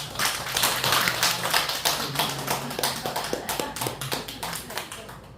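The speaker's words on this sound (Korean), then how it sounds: "박수 한번 합시다" Congregation clapping at a Sunday church service, a lively run of sharp hand claps from a modest group, loud at first and thinning toward the end, with voices faintly mixed in.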